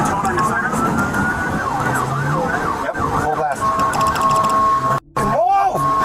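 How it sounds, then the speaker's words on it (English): A police car siren runs at full blast while the vehicle speeds on a road. It sweeps loudly and continuously, switches tone partway through, and briefly cuts out near the end, with excited voices in the background. "Change the tone on your sirens."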